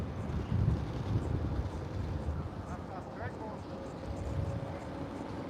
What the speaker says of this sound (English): Because it's windy out here.